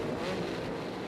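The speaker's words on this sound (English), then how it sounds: "They're revving up the machines and we're ready to go from the Metrodome in Minneapolis." Supercross motorcycles revving together at the start line inside the Metrodome in Minneapolis, a dense continuous engine roar filling the arena at a steady, loud level.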